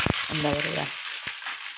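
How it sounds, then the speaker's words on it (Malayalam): Chopped onions sizzle in hot coconut oil in a pan after mustard seeds have spluttered, a steady close frying hiss with a few brief clicks and a short voice underneath. "കടുക് പൊട്ടിക്കഴിഞ്ഞപ്പോൾ നമ്മൾ ഇതിലേക്ക് ഉള്ളി ഇട്ടിട്ടുണ്ട്"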